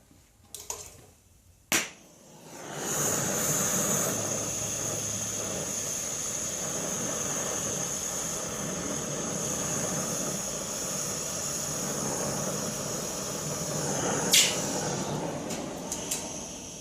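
A torch roars steadily while annealing a silver ring, a continuous broadband hiss lasting over ten seconds after a sharp ignition pop, with a brief click near the end.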